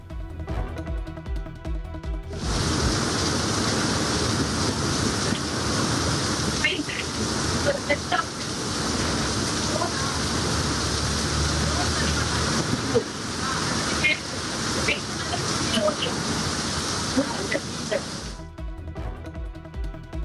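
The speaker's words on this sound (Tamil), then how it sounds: "சென்னையின் பல்வேறு இடங்களில் மாலையில் சூறைக்காற்றுடன் திடீர் கனமழை." Sudden heavy evening rain lashes Chennai amid strong gusting wind: a loud, dense, steady rushing roar that starts abruptly, holds for about sixteen seconds, then cuts off.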